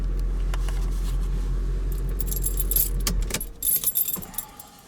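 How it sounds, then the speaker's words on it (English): A Mercedes engine hums steadily, then cuts out as the ignition is switched off, and a close, bright jangle of keys follows in a few quick shakes. "Switch off ignition."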